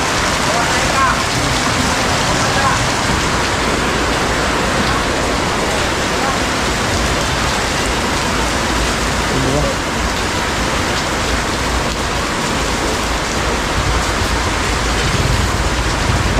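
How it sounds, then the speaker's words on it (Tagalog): Heavy rain pours in a steady, dense roar for the whole stretch, close and loud on nearby surfaces, with voices talking faintly underneath. "Grabe lakas ng ulan oh."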